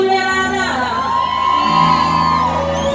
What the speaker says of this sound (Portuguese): Cadê o grito da mulherada?